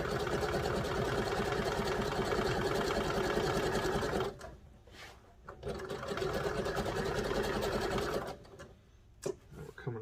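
A sewing machine runs in steady fast bursts while stitching the elastic waistband of a wrestling singlet, with a loud continuous whir for about four seconds, a brief pause, then another long run and a couple of short stops near the end.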